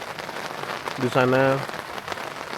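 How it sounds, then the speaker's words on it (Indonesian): Light drizzle falls at a campsite in Puncak, Bogor, as a soft, steady patter throughout, while a voice speaks briefly partway through. "Ini hujan gerimis syahdu ya"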